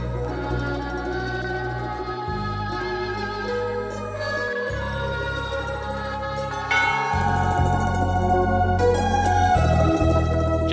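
Sustained bell tones ring steadily over a low droning background, continuing throughout with a few brief breaks.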